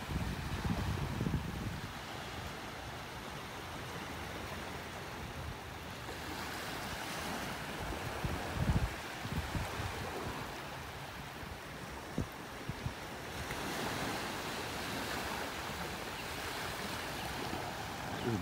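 Small waves washing onto a beach in North Naples, Florida, a steady surf wash with gentle swells rising and falling throughout, and light wind rumble over the microphone.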